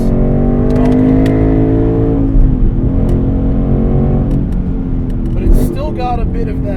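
A 670 hp 2016 Roush Stage 3 Mustang with a V8 exhaust revs and pulls in a loud, steady rising roar heard from inside the car, easing off partway and climbing again, with someone talking over it.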